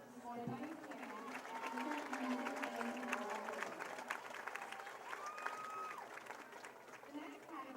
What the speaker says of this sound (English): Please give a round of applause for our winner, Kyle Holder, supported by his parents,